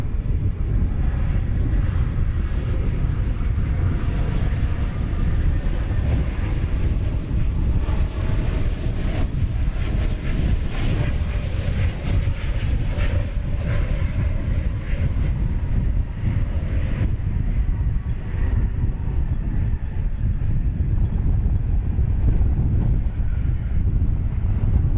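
An American Airlines jet holds on the runway at DFW Airport, giving off a continuous broad engine rumble mixed with heavy wind noise on the microphone, with no voices.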